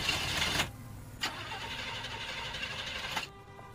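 A car stalls and its engine fails to start in a parking lot. Two short cranking bursts with a pause between them are followed by a longer struggling turnover that cuts off abruptly.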